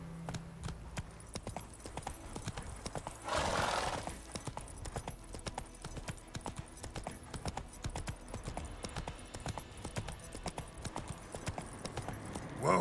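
Horse hooves clip-clopping at a steady gallop in The Witcher 3 on PS5, a rapid quiet rhythmic patter throughout with a brief rushing burst partway through.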